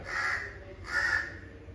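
Crows cawing on a house roof, two loud harsh caws spaced about a second apart, close by over faint background hum.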